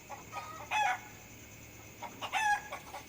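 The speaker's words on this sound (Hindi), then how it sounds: "पोल्ट्री के अंदर सारा मुर्गा बहुत चिल्ला रहा है" Roosters crow and chickens cluck inside a poultry farm at midnight, two separate bursts of crowing at moderate distance against a quiet background.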